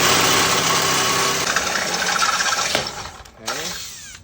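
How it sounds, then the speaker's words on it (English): A power drill boring through a commercial door for a push-pull handle set, a loud sustained whir that wavers and drops off near the end, then spins up again briefly. "I'm just gonna go ahead and drill all the way through."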